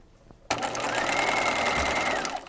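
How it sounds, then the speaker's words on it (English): A sewing machine basting a quarter-inch seam on a peignoir runs in one steady, fast, continuous whir for about two seconds after a sudden start, close and loud, with no talking. "so that is basting at a 1/4 inch"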